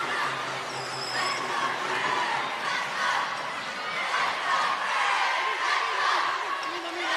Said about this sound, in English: Chance of let's go France, let's go, coming from the crowd here